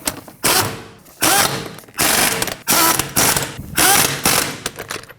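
A ratchet snugs down lug nuts on a Ford Edge wheel in a star pattern, five quick, loud bursts of clicking separated by brief pauses, close up and alone.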